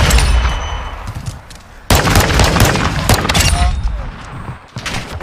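An M1911 pistol fires in Call of Duty: Modern Warfare 2, with sharp, loud shots cracking at irregular intervals, one especially forceful blast partway through, over game ambience.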